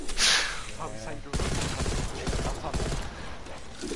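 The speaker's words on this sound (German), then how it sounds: "meine Waffe ist so laut" Rapid bursts of gunfire from a player's weapon in a video game, loud and close, starting with a sharp blast and then a fast rattling stream of shots, while a voice talks over the racket.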